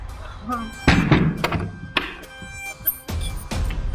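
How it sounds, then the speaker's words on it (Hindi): A door thuds shut indoors with a single solid knock, preceded and followed by brief bumps and thumps as people talk in Hindi over it. "दरवाजा बंद करो।"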